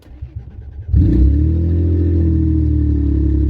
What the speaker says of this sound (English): when you start the engine